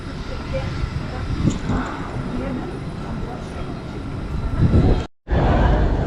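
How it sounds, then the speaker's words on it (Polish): Loud, steady rumble of a fast-moving Norwegian train near Oslo with rushing wind noise and a brief dropout near the end, with no voice. "Te pociągi, powiem Wam, mega szybko jeżdżą i są bardzo fajne i bardzo wygodne."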